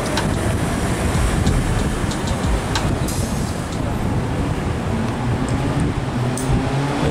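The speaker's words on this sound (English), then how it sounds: "Oh, it's a train station." Busy train station ambience in Ginza, Tokyo: a dense, steady wash of rumbling rail and traffic noise with faint clicks, and people's voices mixed into the background throughout.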